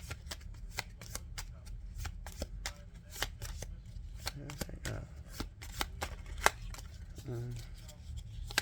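Playing cards are shuffled in a rapid series of crisp riffling flicks and snaps, close and quiet, continuing steadily while a person talks in the background.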